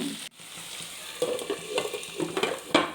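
Onion, tomato and ginger-garlic sautéing in a pan for chicken liver fry, a soft close sizzle broken by scraping stirs and a few clatters of the spoon.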